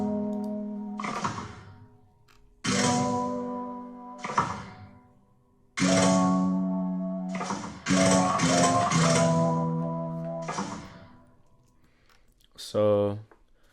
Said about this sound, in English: the first thing we have in this sample is the piano chords